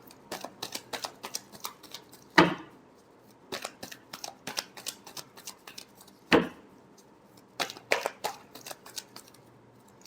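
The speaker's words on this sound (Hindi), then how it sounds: "Last shuffle." Tarot cards being shuffled by hand, a run of quick riffling flutters and papery ticks broken by two sharper slaps as the deck is squared, close and fairly loud with no talking.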